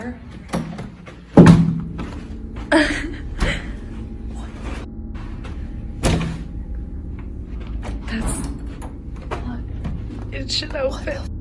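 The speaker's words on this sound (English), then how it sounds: "Okay, so we just went to open the door." A door in a reputedly haunted old hotel in San Diego is opened and then pulled shut, with a loud knock-like thud near the start and further clunks and rattles while people talk quietly throughout.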